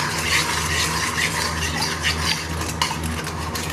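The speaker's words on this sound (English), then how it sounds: "This will take again about 10-15 minutes of constant stirring." Butter being stirred in a pan while it cooks down into ghee, a steady close scraping and swishing with faint bubbling, continuous and fairly loud throughout with no voices.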